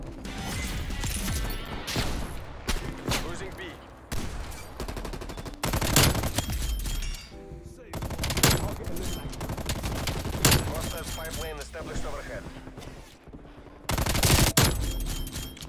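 Rapid gunfire from Call of Duty Cold War, a stoner machine gun firing purple and green tracers, in dense loud bursts with short gaps for reloading, under a player talking.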